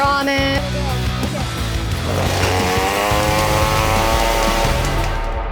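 A pink, glitter-painted chainsaw runs loud and close, its motor revving and whining steadily throughout with no talk.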